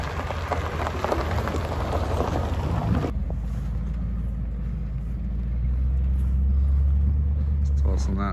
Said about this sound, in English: Tossing that box truck around on these rough little ruts down there.